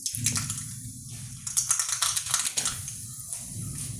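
Mustard seeds splutter and pop in hot sesame oil for a green grape pickle, a rapid run of sharp crackles in bursts, close and fairly loud with no talking.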